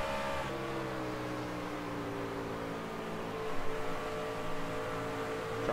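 A NOS Energy NASCAR truck's engine heard on board in a racing video game, a steady droning hum with sustained harmonic tones throughout.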